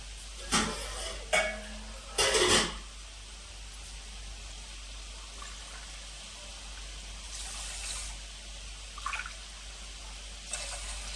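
Water poured into flour while kneading dough for madatha kaja, heard as a few short, close splashing bursts early on, followed by quieter, fainter trickles against a low background hiss.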